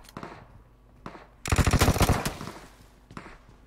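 Rapid automatic gunfire in PUBG Mobile's zombie mode: a loud, dense burst of shots lasting under a second, with fainter single shots and short bursts before and after.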